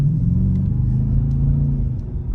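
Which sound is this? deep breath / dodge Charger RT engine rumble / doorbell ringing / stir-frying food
dodge Charger RT engine rumble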